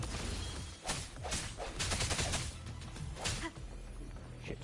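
Enemy explosions in the Wuthering Waves action game: a dense run of sharp bursts and crackling impacts, several loud hits in quick succession layered over continuous game combat noise, with no talking.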